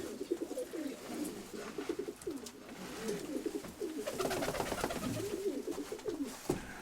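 Several pigeons brought in for boarding coo steadily and close by, their soft throaty calls overlapping in a continuous rolling murmur with no talk.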